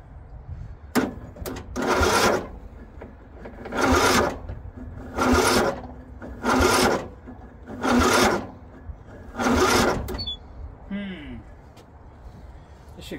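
On an abandoned 2004 Murray 12.5 HP lawn tractor with a 38-inch deck and a better battery, the starter cranks the engine in six loud, close, rhythmic churning bursts about a second long, separated by short pauses and followed by a brief voice.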